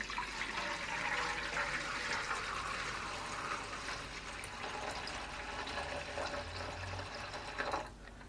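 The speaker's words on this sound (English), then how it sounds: "now I'm going to fill this up with some warm water" Warm water runs from a tap into a non-stick air fryer basket during cleaning, a steady rushing pour that fills for several seconds and then cuts off near the end.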